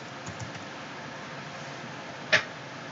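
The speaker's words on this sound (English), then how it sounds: "if I type in something right here, it's going to immediately change it" A few sparse keystrokes on a computer keyboard: faint soft clicks early on, then a single sharper, louder key tap near the end, with quiet room hiss between and no talking.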